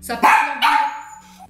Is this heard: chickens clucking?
no